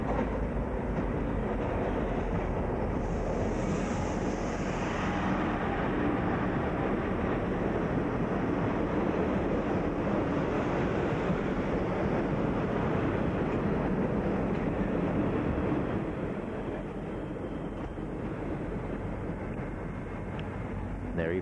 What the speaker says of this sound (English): that train that's just going past now